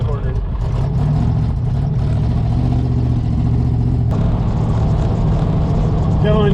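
Engine of an abandoned, rusty 1974 Chevy Camaro in need of a tune-up, droning loud and steady while driving, with a low rumbling hum throughout and people talking over it.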